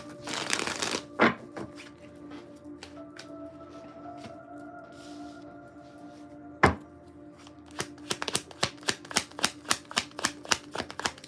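Tarot cards from a Vice Versa deck being shuffled for a spread: a dense riffle burst at the start, a lone sharp tap midway, then a quick run of crisp, close card snaps and taps toward the end.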